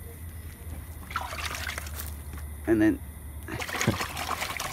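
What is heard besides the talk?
water rinsing a dusky flathead fillet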